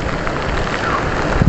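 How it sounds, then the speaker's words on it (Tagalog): Heavy rain falling outdoors, a dense, even hiss of water hitting surfaces, loud and close for a brief stretch with no voices. "Kaso ngayon guys, medyo malakas yung ulan."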